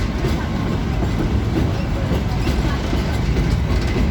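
The Matheran toy train, a line running since the early 1900s, rolls at Aman Lodge station with a steady, dense rumble and wheel clatter, loud and continuous, while people talk nearby.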